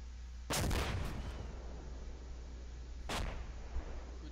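A rocket is fired at a building about 350 meters away during a military operation: two loud, sharp booms about two and a half seconds apart, each with a rumbling tail, over steady background noise.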